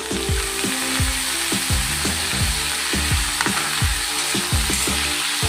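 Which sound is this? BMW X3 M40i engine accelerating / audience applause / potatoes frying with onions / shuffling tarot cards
potatoes frying with onions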